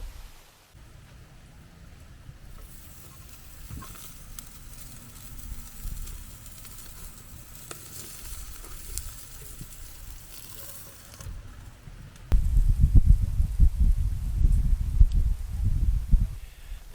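Bratwursts on a charcoal grill over high heat with caramelized onions, a constant soft sizzle and crackle that becomes louder and fuller toward the end, no speech.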